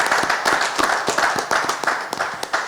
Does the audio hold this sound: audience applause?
yes